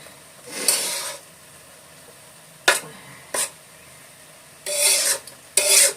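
Food being mixed by hand, likely rice, in a home kitchen: several separate rasping, rubbing bursts of varying length, close and fairly quiet, with short pauses between them and no voices.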